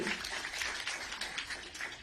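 A crowd at a Chinese Manufacturers' Association press conference in Hong Kong applauds to welcome the association chairman: steady, moderate clapping of many hands throughout the brief moment.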